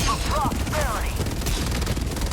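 Gunfire in the video game Helldivers 2, a dense continuous stream of shots under game sound effects and whistling tones, loud and steady throughout.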